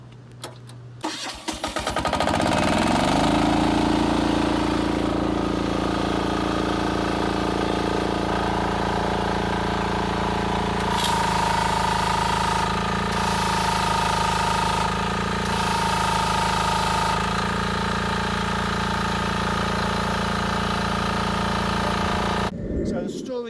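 A petrol engine on a 3000 PSI pressure washer is started with an ignition key, catching after a short crank and then running at a steady, loud, even drone for about twenty seconds before cutting off.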